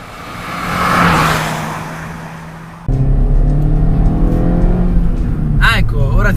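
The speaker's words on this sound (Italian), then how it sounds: "ora tirando il collo a questo piccolo motore" A 2018 Suzuki Swift Sport's small engine revs hard under acceleration, starting with a rising whoosh of passing noise before a sudden cut to a loud, steady in-cabin drone of the engine climbing through the revs.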